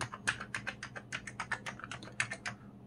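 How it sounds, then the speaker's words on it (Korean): Keys are pressed one by one on a Sony MSX2+ HB-F1XV computer keyboard after a PCB replacement, with some keys needing firmer presses: a string of crisp, close plastic clicks in an uneven rhythm, nearly a dozen strokes in quiet surroundings. "키보드를 눌러보면 알 수 있겠죠"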